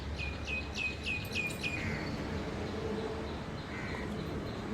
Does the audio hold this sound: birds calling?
yes